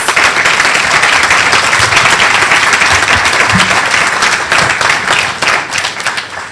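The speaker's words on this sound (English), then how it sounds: "Please give all our honorees another round of applause" At a leadership awards evening, a banquet crowd gives the honorees a thick round of applause, loud and sustained, thinning slightly toward the end.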